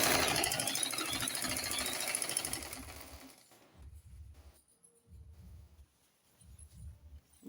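A sewing machine stitching a skirt waistline whirs loudly and steadily for about three seconds, then stops, leaving soft thumps and low rhythmic handling sounds nearby.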